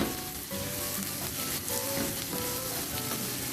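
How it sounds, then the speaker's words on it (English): Green chilies sautéing in a hot pan for aloo paratha, a soft steady sizzle with light stirring, close and alone. "Just saute for half a minute"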